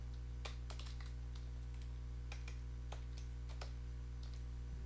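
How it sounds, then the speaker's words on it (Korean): Quiet computer keyboard typing, a scattering of light clicks in short irregular bursts over a steady low electrical hum. "페이지라고 이렇게 타이핑을 한번 해볼게요"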